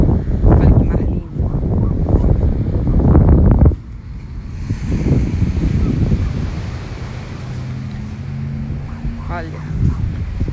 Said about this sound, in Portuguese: Olha que mar lindo.